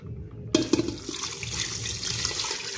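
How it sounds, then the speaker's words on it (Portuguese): Plain water suddenly gushes into a pressure cooker holding meat, starting with a splashing onset and continuing as a steady, close rushing pour without talk. "agora eu vou colocar só água mesmo, sem sal, sem tempero, sem nada,"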